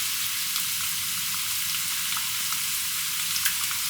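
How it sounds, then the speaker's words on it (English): Onions, garlic, ginger and spices fry in hot oil in a pan, giving a steady, close, dense sizzle that carries on without pause and with no voices. "the first thing you want to do is fry off the onions, the garlic, and all of the spices together"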